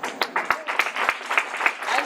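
Audience applause at a 15th-year anniversary celebration for PNLIT, a steady patter of clapping with sharp individual claps standing out, moderately loud and continuous with no voices.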